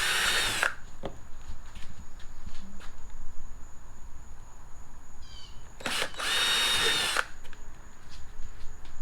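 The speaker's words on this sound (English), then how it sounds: "I guess I could actually drill it through the tape." A power drill cuts a pilot hole through masking tape on the body of a 2017 Camaro SS 1LE, two loud whining bursts, one brief at the start and one longer near the end, with quiet pauses between.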